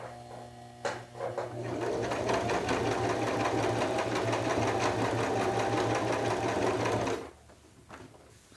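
A sewing machine runs a continuous line of stitching along white vest flaps, a steady rapid whirring and clatter lasting several seconds before it stops, with quiet room tone before and after.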